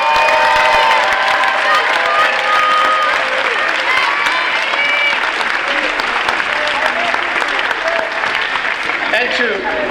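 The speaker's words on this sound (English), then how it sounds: "And a big, huge, enormous round of applause to our amazing faculty." An audience at the AMSA Class of 2019 graduation ceremony applauds the faculty with loud, sustained clapping and some cheering, dense and continuous throughout.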